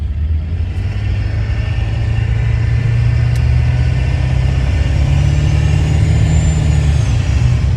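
A car engine idles with a steady, deep rumble and low drone throughout, close and fairly loud, with no talking.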